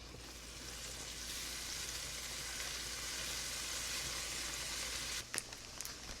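Chopped garlic sizzling in a pan for creamy Cajun shrimp pasta: a steady, close frying hiss running throughout, with a brief clatter of utensils near the end.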